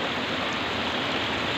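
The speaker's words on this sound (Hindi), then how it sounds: "ये देखिए छोटा छोटा सुंदर झरने के साथ" Small waterfalls near a cave shrine pour with a steady, close broadband rush of water, even and unbroken throughout with no voices.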